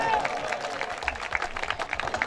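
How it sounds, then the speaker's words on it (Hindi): An audience clapping together at a comedy show, a dense patter of handclaps that holds steady across the moment, with crowd noise mixed in. "एक बार ताली बजा दो"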